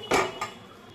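A pot of hilsa fish curry with taro is lifted off the stove, giving two quick metallic clanks of the pan against the burner, the first louder, close and brief with no talking.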